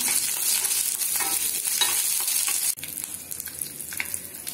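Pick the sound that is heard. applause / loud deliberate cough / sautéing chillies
sautéing chillies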